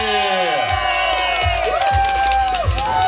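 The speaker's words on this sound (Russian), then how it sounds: "Аплодисменты!" Wedding guests at a Lake Baikal celebration cheer and whoop as the wedding cake is cut. Loud crowd noise carries throughout, with shouting voices rising over the cheers and some clapping mixed in.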